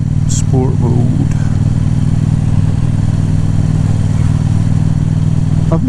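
A KTM 790 Duke motorcycle cruising in fifth gear at low revs in sport mode with changed sprockets, giving a steady, loud, low engine drone that holds constant throughout, with brief faint chirps over it.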